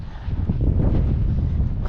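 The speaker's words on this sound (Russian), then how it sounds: "Потихоньку стихает у нас ветер." Wind blows steadily across a frozen lake during ice fishing in snowy weather, a continuous low roar buffeting the microphone with no pauses.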